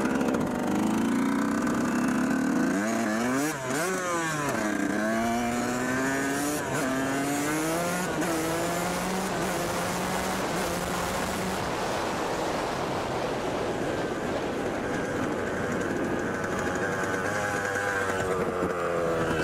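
Yamaha YZ dirt bike engine running in a field, revving up and down with rising and falling pitch under heavy, steady wind roar.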